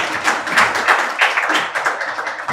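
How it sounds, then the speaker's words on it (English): Audience applause at an orthopaedic knee arthroscopy workshop after a professor's presentation, a brief steady burst of many hands clapping in a hall, fairly close and without speech. "An applause for the professor here for a good presentation."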